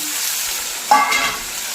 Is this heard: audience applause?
no